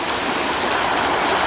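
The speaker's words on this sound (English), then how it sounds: "enjoying the gushing sound of the waves" Gushing waves of the River Shishamara near a forest, a dense, continuous rush of water that stays loud and steady throughout, with no talk.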